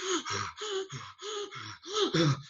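Sharp, forceful breaths drawn in and pushed out in a quick regular rhythm, imitating how athletes breathe during hard muscular work; about eight close, loud gasping pulses with no talk.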